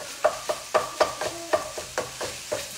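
Ground beef frying in a pan for a quick low-carb dinner, with a steady rhythmic scraping and mashing of the meat about twice a second over a soft sizzle, close and alone.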